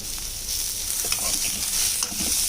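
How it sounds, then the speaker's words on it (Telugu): Tofu is stirred and fried in a pan, giving a brief, close, steady sizzle with soft scraping strokes over it, no speech. "టోఫు వేసిన తర్వాత బాగా కలుపుకోవాలి. ఇది కూడా కొంచెం ఫ్రై అయిన తర్వాత"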